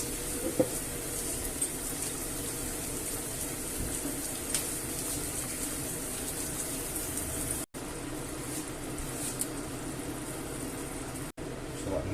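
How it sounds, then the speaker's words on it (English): A pot of water for a hake and potato stew comes to a boil, giving a steady, close bubbling and hissing rumble that runs continuously with a few brief dropouts. "this has quickly come to a boil"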